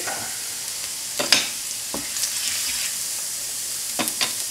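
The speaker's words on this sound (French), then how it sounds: "On va mettre donc la gousse d'ail à dorer, toujours pour donner le parfum." A garlic clove browning in a hot pan for Thai pad see ew, with a steady close sizzle over high heat and a few brief scraping stirs of a utensil, and no one speaking.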